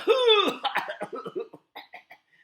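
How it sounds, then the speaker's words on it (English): A person coughs forcefully, one loud harsh burst followed by a string of smaller, fading cough-like sputters, close up with no other sound. "it forces you to cough so that the air in your lungs blows out"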